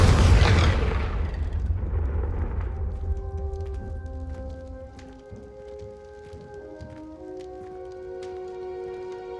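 Confringo blasting spell from the video game Hogwarts Legacy: a loud, booming explosion at the start that rumbles and decays over a few seconds, leaving faint ringing tones and scattered crackles behind.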